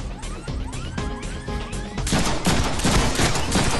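Movie gunfire in an action scene, a dense burst of shots with metallic crashes and smashing impacts, loud and close, intensifying into heavier continuous firing.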